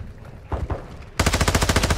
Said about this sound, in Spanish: ¡Cuidado al disparar!